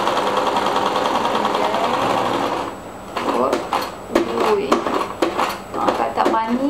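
A sewing machine stitches fabric for a table mat in a home sewing lesson, running in a steady continuous whir for a few seconds, then stopping for a series of clicks and clunks as the needle and presser foot are adjusted.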